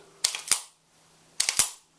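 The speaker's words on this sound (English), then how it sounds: "That racking sound on a 1911." Two crisp metallic clack-clack pairs of a 1911 pistol's smooth slide being racked back and released, loud and close, with a short pause between.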